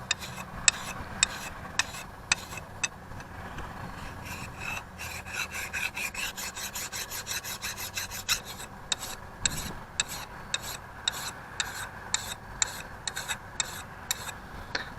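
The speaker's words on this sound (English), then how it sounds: "Now I'd like to take a file and run across it, just make sure that it's flat." A metal file rasps back and forth across a flat engine part from a 1952 Ferguson TO-30 tractor. The strokes are steady and repetitive, close up and fairly loud, with light ticking between them and no talk.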